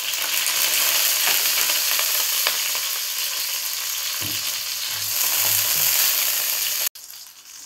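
Steady, loud sizzling and crackling of dried chillies frying in hot oil in a wok, with a few faint scrapes, continuing without talk until an abrupt cut.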